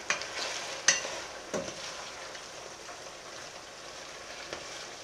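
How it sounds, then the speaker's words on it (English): Cut corn tortilla pieces frying in a pan for chilaquiles, a steady soft sizzle with a few sharp clinks and taps near the start, no talking. "I'm cutting them, I'm cooking them."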